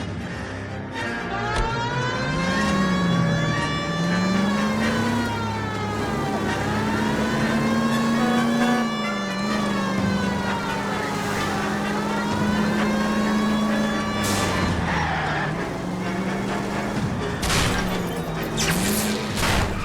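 Car engine in a 1940s Los Angeles detective game, steadily droning and revving through gear changes during a pursuit, with a siren wailing and warbling over it for most of the stretch.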